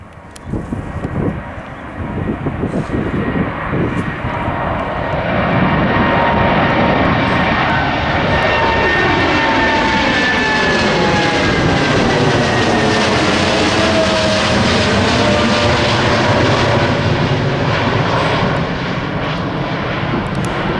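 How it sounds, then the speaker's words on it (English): A large jet airplane roars loudly on landing, its engine noise swelling and holding steady with shifting whining tones as it powers past at close range. "Someone just landed, we've got a big plane coming."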